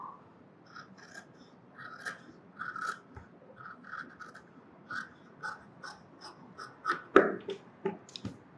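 Scissors cut through fabric for a sleeveless top, a string of crisp, close snips and clicks at an uneven pace against a quiet background, with no talk.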